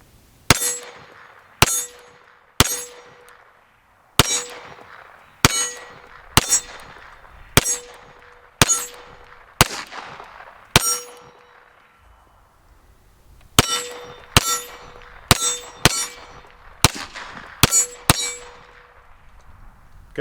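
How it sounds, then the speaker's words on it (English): Smith & Wesson M&P FPC pistol-caliber carbine fired at steel targets on a range, about twenty sharp shots, each followed by a ringing metallic clang, in quick strings with one short pause, no talking. "we're just going to go ahead, ring some steel, and enjoy the gun"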